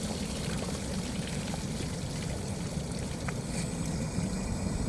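Water from a hose flows steadily into the fuel tank of a 1978 Honda Goldwing during cleaning, a constant close rushing, splashing wash with no pauses.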